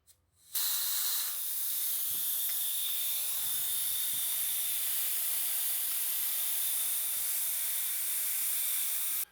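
Compressed air hisses out of a Karma EQ airgun being degassed. A short click comes first, then a loud, steady, continuous hiss that carries on unbroken for several seconds.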